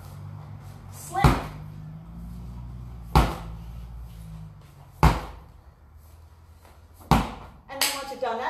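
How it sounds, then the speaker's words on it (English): Workout medicine ball slammed onto a gym floor, four heavy thuds spaced about two seconds apart, each a sharp impact with a short bounce, while a coach talks throughout. "Then you've got ball slams, pretty simple."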